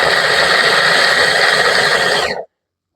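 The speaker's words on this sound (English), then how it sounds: "That little grinder going," Small electric chopper grinding onion and green pepper for beef wonton filling, a steady loud whirring buzz close by that runs continuously, then cuts off abruptly.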